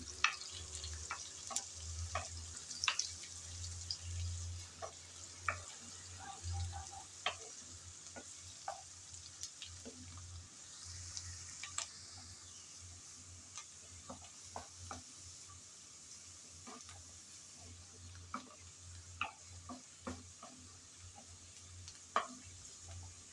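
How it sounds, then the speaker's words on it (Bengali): Chopped garlic and onion fry in a pan, stirred now and then, giving a steady soft sizzle with scattered sharp crackles and light scraping, fairly faint and close, with no talking. "রসুন আর পেঁয়াজ কুচি দিয়ে নেড়ে চেড়ে ভেজে নেব কিছুক্ষণ।"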